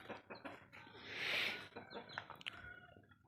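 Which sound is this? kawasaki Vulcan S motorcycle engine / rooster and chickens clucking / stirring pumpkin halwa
rooster and chickens clucking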